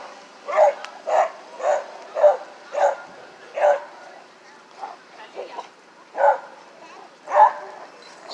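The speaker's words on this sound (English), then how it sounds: "want to see dogs playing or they're fighting?" Dogs playing in Central Park's Rose Garden in Schenectady, NY, bark in a string of about a dozen sharp, evenly spaced woofs at moderate distance, with a few softer yips between.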